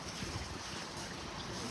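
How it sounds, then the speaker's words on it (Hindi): Cool wind blowing steadily outdoors in a village in the evening, a continuous broadband rush of air buffeting the microphone with no talking. "ये देखें अभी भी ठंडी ठंडी हवा चल रही है"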